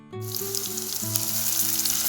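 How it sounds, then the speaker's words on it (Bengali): Thinly sliced onions drop into hot oil in a pan and sizzle loudly and steadily, a close, bright frying hiss that starts abruptly and holds. "এইভাবে ভেজে দেবেন পেঁয়াজটা লাল লাল করে"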